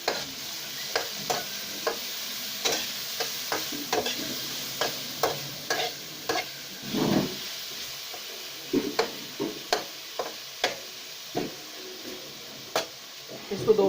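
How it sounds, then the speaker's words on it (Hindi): Onions, green chillies and tomatoes frying in a pan, a soft steady sizzle punctuated by a regular series of sharp spoon scrapes and taps as the mix is stirred, close and fairly quiet. "इसको दोस्तों इसके साथ थोड़ा सा भून लेंगे।"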